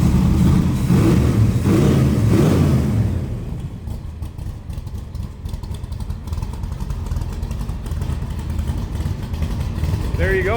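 A 1965 Shelby Cobra replica by Backdraft with a Roush Performance 427 V8 and four-barrel carburetor roars loudly for about three seconds, then settles into a steady, lumpy idle rumble close by.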